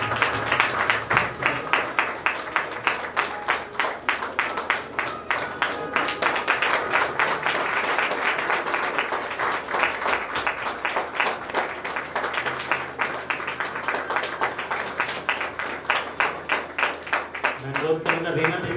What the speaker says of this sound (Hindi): और जब इस बुके को देते हैं हम ताली बजाकर एक बार फिर से सर का स्वागत करेंगे